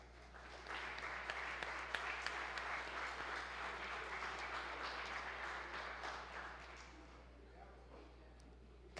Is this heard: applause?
yes